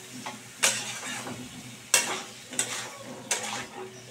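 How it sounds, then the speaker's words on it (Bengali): Papaya, potato and pumpkin are stir-fried with spices, with a low sizzle under several sharp spatula scrapes and knocks against the pan at uneven intervals. "এবার কিন্তু মশলার সঙ্গে সবজিটাকে আমি ভালো করে কষিয়ে নিচ্ছি"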